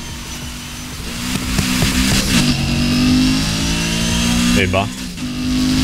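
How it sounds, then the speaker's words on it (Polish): A tuned 4.0 V8 engine in a Ford Focus RS in the video game Need for Speed Heat revs up and holds a high, buzzing drone, with brief gear shifts, as someone speaks briefly over it. "Dźwięk silnika się zbytnio nie zmienił."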